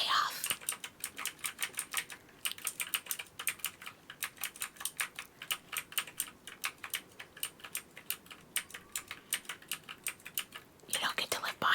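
Fast, crisp keyboard typing clicks run on steadily for ASMR, close and soft, with short breaks and brief whispering near the start and end.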